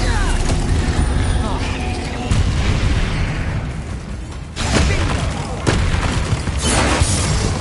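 Confringo fire spells blast in Hogwarts Legacy, loud booming explosions in a mine, several heavy bursts in quick succession over a constant rumbling din.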